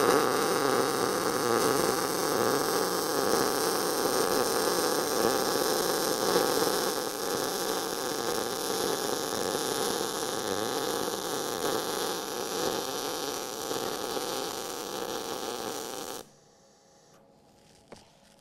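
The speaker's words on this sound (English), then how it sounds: "So you can hear that the frying bacon sound was" MIG welder running with a correct setup, giving a steady crackling, sizzling hiss like frying bacon, close and continuous for about sixteen seconds before stopping abruptly into near silence.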